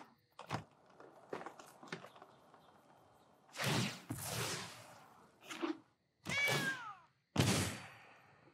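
A cat character meows in a card video game, a few separate meow-like calls among short clicks and thuds, moderately loud with gaps of quiet between them.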